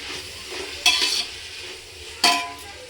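Biryani masala frying and being stirred in hot oil, a steady sizzle with two sharp scraping stirs of the spoon against the pan, close and clear with no talking.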